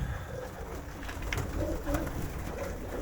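Aviary pigeons coo softly in low, rounded phrases over a steady hum of background noise, the calls rising and falling through a few seconds without any speech.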